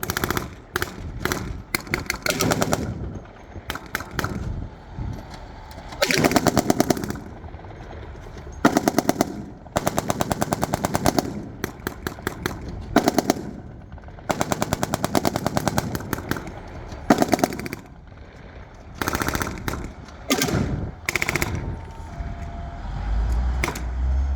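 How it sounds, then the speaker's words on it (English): Simulated small arms fire crackles during an Army National Guard combat demonstration at a state fair, with rapid bursts of blank gunfire in repeated volleys and short pauses between, loud and sustained throughout. "The squad immediately reacts to small arms fire from the enemy position."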